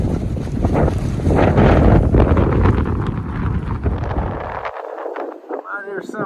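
Heavy wind buffets the microphone in a loud, continuous roar on the Appalachian Trail in Virginia, easing and thinning out toward the end.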